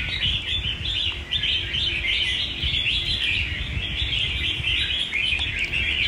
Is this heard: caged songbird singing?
yes